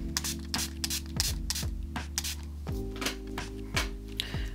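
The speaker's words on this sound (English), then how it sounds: "a quick spritz of Medusa's Makeup Setting Spray" Several quick hissing bursts of makeup setting spray in a loose rhythm, close up, over a low electrical hum.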